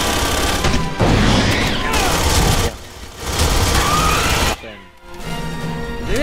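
Bursts of sustained gunfire and booming blasts fill an Aliens: Colonial Marines firefight, loud and close, cutting off abruptly between rattling volleys.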